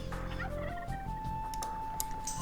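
Turkeys gobble repeatedly in Age of Empires II, close and clear, with rising warbling tones and no talk, amid steady game background sounds.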